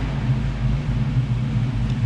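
A 1965 Ford Mustang idles nearby in a lot of classic cars, its engine giving a steady, loud, low rumble with a slight pulsing throb.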